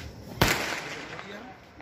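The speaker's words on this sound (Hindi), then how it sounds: "ये पटाखा" A Diwali firecracker bursts nearby with one sharp, loud bang, followed by a short fading echo and outdoor ambience.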